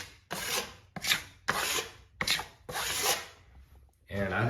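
Drywall knife feathering joint compound edges over a fiber mesh crack repair: five or six close scraping strokes, each a rough rasping swipe separated by short pauses.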